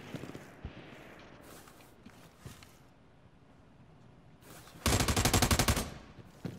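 Gunshots ring out in a video game scrim: a few scattered shots and footsteps, then a loud rapid burst of automatic fire near the end.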